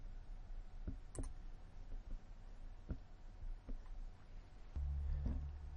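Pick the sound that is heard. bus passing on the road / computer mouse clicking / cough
computer mouse clicking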